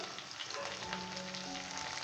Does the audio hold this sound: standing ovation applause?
no